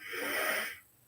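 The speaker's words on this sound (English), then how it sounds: "And you breathe in" A person takes a deep diaphragmatic in-breath, a broad airy hiss lasting under a second, close and steady, fading out abruptly at the end.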